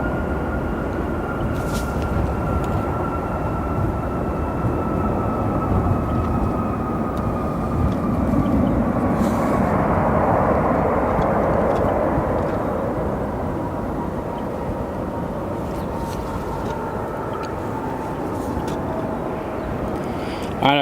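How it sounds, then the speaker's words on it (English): A United Express Embraer E175 jet arriving at O'Hare International Airport gives a steady, fairly loud engine roar and whine that holds across the whole stretch, swelling slightly midway, with faint background noise. "This arrival right now on your screens, United Express Embraer E175 long range,"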